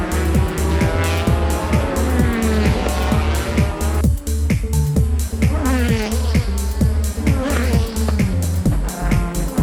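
GT race cars of the Japanese GT Championship roar around a racing circuit, engines loud and continuous with repeated gear-shift pulses and rising revs, under commentary.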